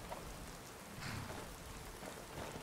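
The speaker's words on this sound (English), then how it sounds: "The rain hasn't stopped at all overnight." Soft, continuous rain patters down across a Skyrim landscape, a quiet, even hiss with faint drop textures and no one speaking.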